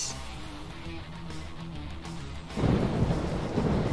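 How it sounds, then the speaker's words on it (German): A thunderstorm in the video game RollerCoaster Tycoon 3, with rain pattering steadily under a low rumble of thunder that swells louder partway through. "es gewittert es auch noch"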